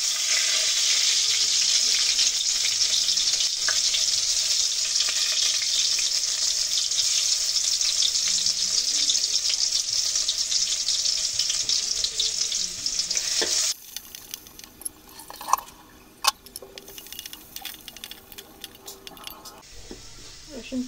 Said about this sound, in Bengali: রসুন পেঁয়াজ ভাজি ভাজি হয়ে এসেছে